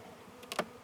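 Honeybees at a hive during an autumn inspection give a couple of short, faint buzzes close by, quick passes against a quiet background.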